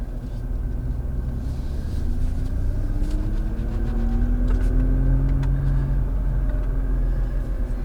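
A Nissan GT-R engine under throttle while driving around a corner, a deep steady rumble that swells and climbs gradually in pitch from inside the car, with no talking.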